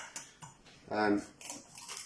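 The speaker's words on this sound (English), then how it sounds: "we're going to break our eggs into some little dishes" Eggs cracked into small ceramic ramekins for poaching, heard as a few short, close clinks and taps of shell against dish, with a voice briefly speaking in the middle.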